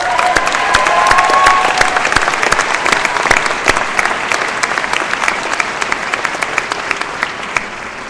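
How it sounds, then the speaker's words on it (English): New graduates at Northwest Missouri State University's 2012 spring commencement applaud themselves, a large crowd's loud, sustained clapping with sharp individual claps standing out, gradually thinning toward the end. "Give yourselves a round of applause."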